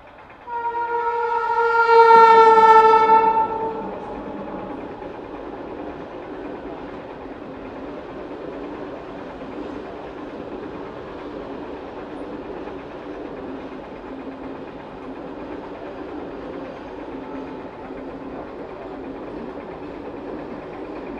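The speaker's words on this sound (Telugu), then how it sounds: "సెకండ్ ట్రైన్ కూడా అయిపోయింది" A train passes a gated railway crossing. A loud, sustained horn blast opens, then fades into a long, steady rolling rumble of wagons that continues evenly for many seconds.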